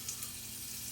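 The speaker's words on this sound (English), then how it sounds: "We're going to go in one more time here with a little bit of butter" Fresh butter sizzling in a hot pan: a steady, bright, hissing crackle that holds even and close throughout a brief moment, with no talking.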